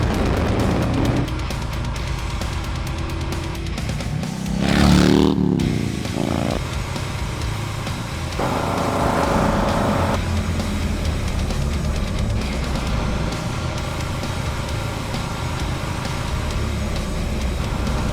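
A 1985 Yamaha Maxim and a 2018 Harley Davidson Heritage motorcycle engines rev together close by, a loud droning roar with sharp throttle surges and a sustained rise midway.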